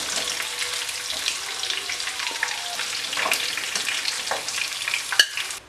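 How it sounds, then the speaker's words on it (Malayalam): Fried chicken pieces are lifted out of hot oil while cooking Manjali biryani, with a continuous close sizzle, scraping and clattering of the utensil, and a sharp clink near the end. "ആദ്യം നമുക്ക് എണ്ണയിൽ നിന്ന് ഫ്രൈ ആയ ചിക്കൻ എടുത്ത് മാറ്റാം."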